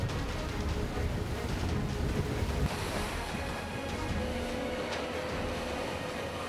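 Rough night sea with storm-warning waves slapping around a pufferfish fishing boat, a steady loud wash of surf and wind noise throughout, with engine-like rumble low underneath.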